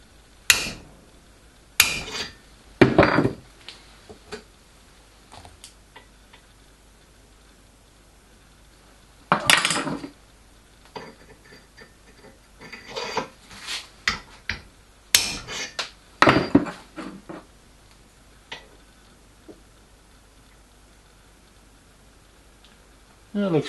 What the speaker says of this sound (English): I'll hit it with a hammer.